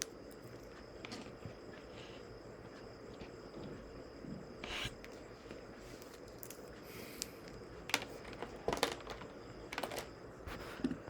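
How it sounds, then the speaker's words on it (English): Soft, scattered keystrokes on a computer keyboard in a quiet room, a few light clicks clustering toward the end over a faint steady background hiss. "Let me type yes."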